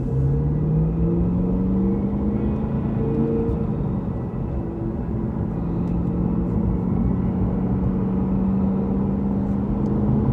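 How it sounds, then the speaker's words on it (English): Cadillac Blackwing engine with a manual gearbox revs under way inside the closed cabin, a loud, steady low rumble with rising and falling tones as the revs climb and settle, no talk over it. "This car sounds wicked."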